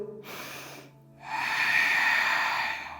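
Breathing during a yoga session: a short nasal breath, a brief pause, then a long, steady, airy inhalation heard up close with no talking.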